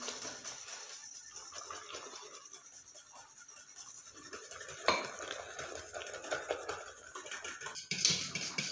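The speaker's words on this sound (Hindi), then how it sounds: "तो मैं अभी आधा आटा डाल रही हूँ और इसे हम लगातार मिक्स करेंगे ताकि इसमें गुठलियाँ ना पड़े।" A spoon scrapes and rubs steadily around a pot as flour is stirred into leftover potato water, close and fairly quiet, with a couple of sharper clinks against the metal.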